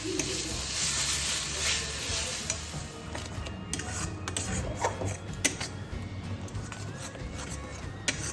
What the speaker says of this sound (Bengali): এবার মাছগুলোকে ভেজে নিয়ে রান্নাটা করি